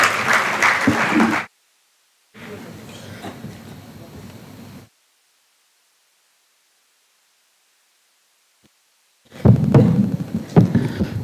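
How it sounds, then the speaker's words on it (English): Bursts of audience applause at an inaugural ceremony, cut by several long dead-silent dropouts, with a louder, closer stretch of clapping and voices returning at the end. "A big round of applause"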